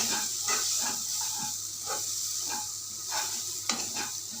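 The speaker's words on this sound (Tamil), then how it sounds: "நல்லா வதக்கிட்டு" Masala for a radish kofta gravy sizzles steadily in a hot pan over low flame while a utensil scrapes and stirs in a regular rhythm, close up.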